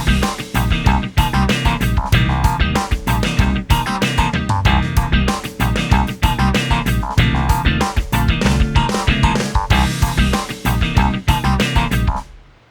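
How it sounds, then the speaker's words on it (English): Several layered electric guitar loops in Logic Pro play together in a dense, rhythmic groove with steady driving beats, loud and continuous until a quick fade. "Let's say I want these bell bottom guitars to play along with this one."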